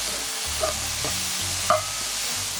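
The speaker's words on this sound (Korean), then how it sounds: "버섯이 익을 정도로만 볶아주시고요" King oyster mushrooms stir-fried in a pan, a steady broad sizzle with a few short utensil scrapes and clicks against the pan, close and continuous with no talking.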